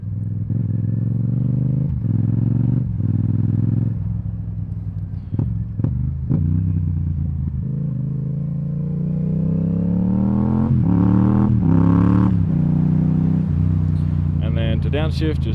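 A motorcycle engine revs in short throttle blips as the rider downshifts, pitch dropping and jumping between gears, close and loud with some mechanical clatter.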